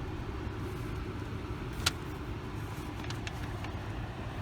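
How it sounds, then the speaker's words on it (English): Steady low rumble inside a car cruising a California coastal road between Laguna Beach and Redondo Beach, with continuous road and engine drone and one brief sharp tick partway through. "we're just driving around here and whatever, where we go"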